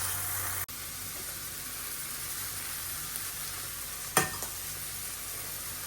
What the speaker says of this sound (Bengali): এই যে এখন মাছটা সুন্দর করে একটু ভাজি করা কড়া করে ভাজা দিয়া